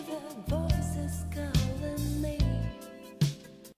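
Soul music recording: bass notes and chords in a steady groove with sharp attacks every second or so, heard clearly with no talking over it.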